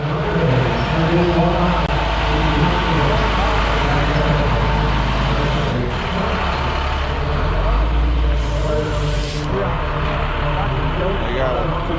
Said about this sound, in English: They got a 2013 model box truck coming through.